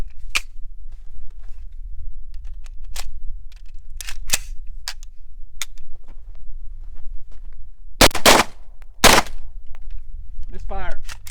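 A braced gun is readied and fired: scattered mechanical clicks and clacks of brace deployment and loading lead into two loud, close shots in quick succession, and a voice follows briefly.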